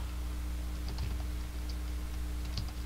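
Arduino code being typed on a computer keyboard, with sparse light keystrokes over a steady electrical hum and no one talking.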